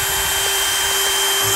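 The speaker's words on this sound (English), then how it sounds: "get a drill bit that is similar to the size of the stem. And this is really easy to drill through." A power drill bores a bit through a pumpkin being decorated for fall, giving a steady, close motor whine that runs unbroken for the whole moment with no talking.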